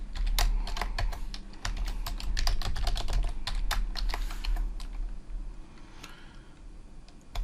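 Quick, uneven keystrokes on a computer keyboard as a password is entered while setting up a home lab management server, close and clear with no talk, the clicking thinning toward the end.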